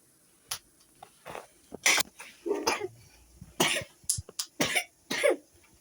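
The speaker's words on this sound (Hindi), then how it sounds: "हालत खराब हो रखी है खांसी से दोनों की" Children cough repeatedly in irregular bursts, some harsh and chesty, close by in an otherwise quiet room.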